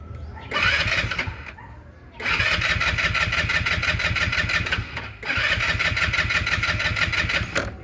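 A roughly 125 cc motorcycle with its kickstarter removed is cranked on the electric starter in three rattling bursts, catching briefly each time but failing to keep running. The mechanical chatter is loud and close.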